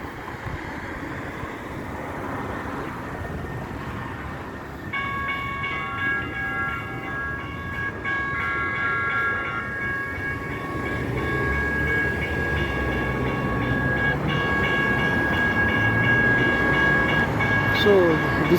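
A train rumbles steadily through a local railway station, with a sustained high metallic squeal or whine joining about a third of the way in and the rolling noise growing louder toward the end.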